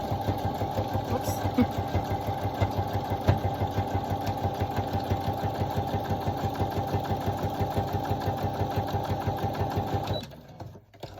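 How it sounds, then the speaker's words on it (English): A sewing machine runs steadily at a quick, even pace, stitching a straight seam for about ten seconds before stopping abruptly. "it's just a straight stitch that I'm doing"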